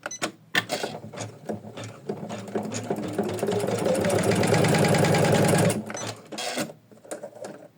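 An embroidery machine stitches in-the-hoop flower and bunny designs, a close, busy mechanical rattle that builds to a dense, steady run for several seconds, then stops and resumes in shorter bursts.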